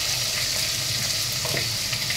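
Ginger paste and garam masala fry in a pan with a steady, dense sizzle that holds evenly throughout, close and continuous with no talking.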